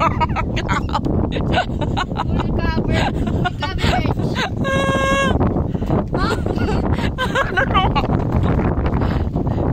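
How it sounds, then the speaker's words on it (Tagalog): Strong wind buffets the microphone on a hillside nature trip with loud, constant rumbling gusts, while people talk over it and a bleating animal calls briefly in the middle. "So mahangin dito pero mainit kasi."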